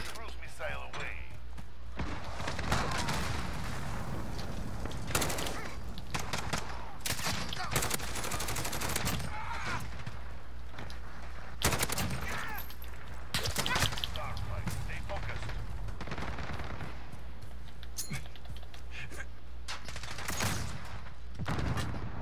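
Rapid automatic gunfire and bursts of shots from the Call of Duty: Modern Warfare video game, loud and repeated throughout amid game sounds, with a player talking over it.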